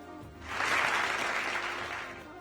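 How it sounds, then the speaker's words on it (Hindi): Studio audience applause on a Ramzan debate show, a faint burst of clapping that swells quickly, holds for about a second, then fades away. "बहुत देर में तालियां बजी।"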